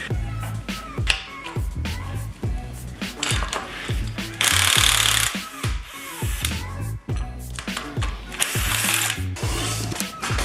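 Hand ratchet loosening bolts on an alternator bracket of a car engine, a fast close-up clicking in repeated strokes with metallic clatter and short bursts of brighter rattling noise between them, no talk.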